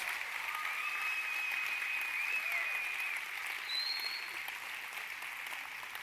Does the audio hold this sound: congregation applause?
yes